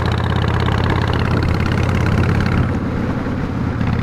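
Honda Shadow 1100 motorcycle engine while riding, a loud, close, steady rumbling drone that continues throughout with slight easing toward the end.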